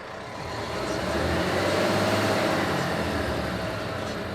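A Renault truck's Euro 6 diesel engine roars close up, its revving swelling and holding at a loud, steady level.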